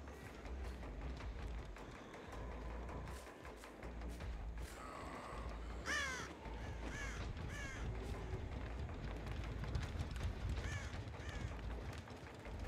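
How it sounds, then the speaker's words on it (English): Crow cawing in a video game, a few harsh calls standing out over a busy, noisy background of game sounds at low overall volume. "Is that an AFK crow or just a crow crow?"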